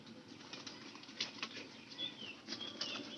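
A pigeon flaps its wings in a series of quick, irregular flutters, close and fairly loud, with no talking.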